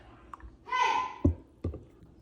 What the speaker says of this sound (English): I like to use this frother